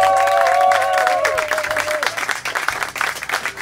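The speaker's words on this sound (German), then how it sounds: "Gunter, der Beifall ist dein." Applause from a crowd at a table tennis club garden party, dense clapping that holds steady before thinning, with a voice speaking over it partway through.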